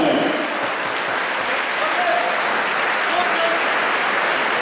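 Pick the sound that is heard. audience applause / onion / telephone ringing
audience applause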